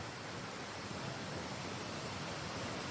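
Imilda Falls: a steady, even rush of falling water fills the air as a soft, continuous hiss-and-roar wash without breaks, heard alone with no voices.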